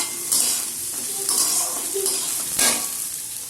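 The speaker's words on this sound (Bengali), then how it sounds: "দিয়ে অল্প একটু সামান্য ফ্রাই করব।" Carrot and capsicum are stir-fried for vegetable chowmein, a steady sizzle broken by three or four sharper hissing bursts as the vegetables are tossed, close by and without talk.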